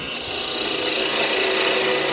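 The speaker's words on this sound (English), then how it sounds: "we'll just come in with our 1/4-inch beading and parting tool" A 1/4-inch beading and parting tool cuts wood spinning on a lathe, giving a steady, continuous rasping hiss that holds loud and close from start to finish with no pauses.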